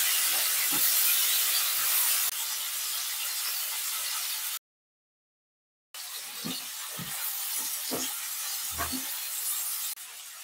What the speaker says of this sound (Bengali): এবার ওই তেলটাতে আমি চিংড়ি মাছটা ভেজে নেব